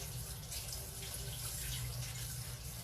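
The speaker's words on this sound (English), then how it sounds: "Let me just wash my hands real quick." Tap water runs steadily into a sink while chocolate-covered hands are rinsed under it. The hiss is close and constant, with no talking.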